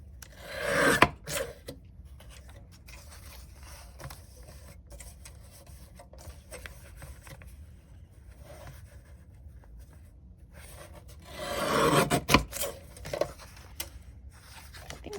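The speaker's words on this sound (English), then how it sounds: "I'll just go through and cut all of these off" Glued junk-journal book page cards being trimmed, with soft cutting and rubbing scrapes and a couple of louder handling bursts near the start and toward the end, close and otherwise quiet.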